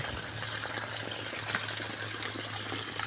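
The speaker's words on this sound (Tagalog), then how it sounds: "Para magbutyog yung tubig galing doon sa taas. Papunta dito." Water gushes steadily down from upstream through a hose and PVC pipe at a creek where the line had clogged and lost pressure; a constant, close, unbroken rush with no voices.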